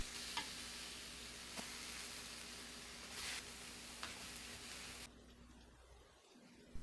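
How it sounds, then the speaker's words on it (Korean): Eggplant fries slowly in a pan over low heat with a soft, steady sizzle and a few faint clicks. The sizzle cuts off abruptly near the end, leaving quiet room tone, and no one speaks. "후라이팬에 약불로 가지를 노릇하게 구워요."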